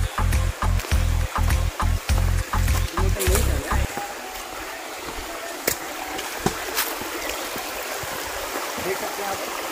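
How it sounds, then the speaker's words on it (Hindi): Water spilling from a waterfall below a dam near Port Blair in the Andaman Islands, running low, gives a continuous rushing splash; a regular thumping motor-like pulse sounds over it early on, then fades away. "अभी थोड़ा पानी कम होने की वजह से थोड़ा कम झरना है।"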